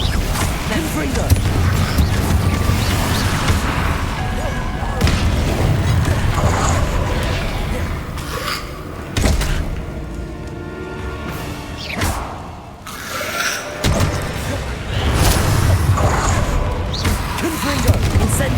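Confringo blasting spells burst repeatedly in Hogwarts Legacy, a loud, dense run of booms, crashes and whooshes with barely a pause, mixed with shouting voices and other in-game noise.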